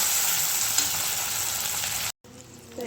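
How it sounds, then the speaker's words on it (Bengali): Onion and tomato fry in a pan, giving a continuous close sizzle that cuts out abruptly near the end, then resumes more quietly. "এবার আমি পেঁয়াজ টমেটো দুটোই ভালো করে ভেজে নেব।"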